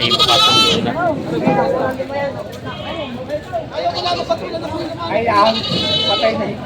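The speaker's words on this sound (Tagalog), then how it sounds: "May kambing si boss dito binibenta." Goats bleat loudly in several wavering calls, close by, while someone talks over them.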